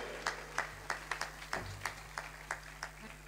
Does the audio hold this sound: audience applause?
yes